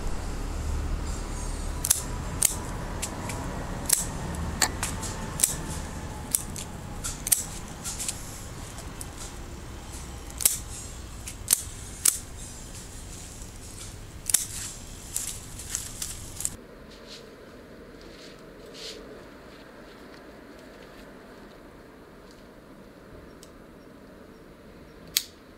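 Pruning shears snip Elegantissima rose stems, a series of crisp, quiet clicks scattered irregularly over a soft outdoor background, thinning out toward the end where the surroundings turn quieter.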